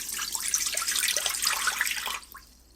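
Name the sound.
pouring chicken broth into Instant Pot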